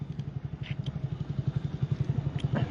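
A motorbike rides at night through the Surajkaradi-Arambhada area of Okha town, its engine throbbing in a steady, fast pulse close by, with faint clatter over the low rumble.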